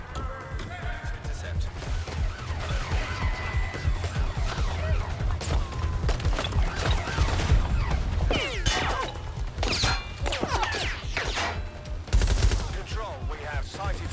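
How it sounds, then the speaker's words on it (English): Gunfire in the Watch Dogs Legion video game, with rapid bursts and single shots cracking close and loud alongside crashes and impacts, while voices talk over the fighting. "Suspect has opened fire!"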